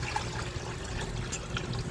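Tap water running steadily into a cooking pot for pasta, a soft continuous splashing hiss at moderate distance with no talk.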